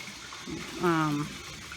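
Filtered water poured over apples in a container, a brief gush of liquid rising in pitch as the vessel fills, lasting under a second against quiet room tone.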